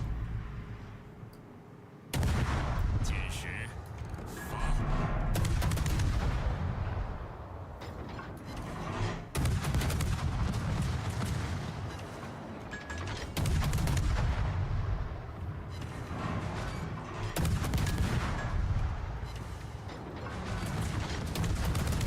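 Naval gunfire in the World of Warships video game, with loud booming salvos and rumbling impacts arriving repeatedly over a dense, continuous battle soundscape, no voices.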